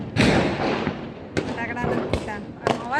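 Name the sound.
distant firecrackers bursting during Diwali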